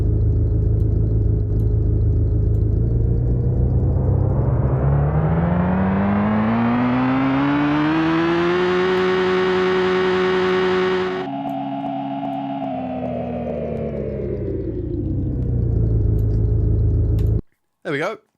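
Synthetic car engine built in FMOD for a Unity game, humming steadily, then revving upward in a smooth pitch climb, holding high, dropping abruptly and winding back down before cutting off.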